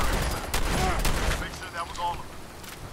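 Several rapid gunshots ring out in Fallout 4, bunched into a burst at the start and easing off, with someone speaking over the shooting.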